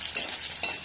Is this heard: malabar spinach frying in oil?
yes